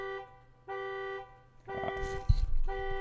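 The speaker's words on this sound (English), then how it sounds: "I have no idea how neighbors can set off car alarms so goddamn often." A neighbor's car alarm sounds in repeating blasts of a harsh, buzzy electronic tone that cut in and out, followed by louder clattering thumps and knocks nearby.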